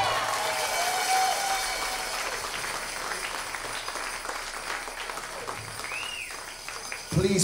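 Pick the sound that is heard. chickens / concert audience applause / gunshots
concert audience applause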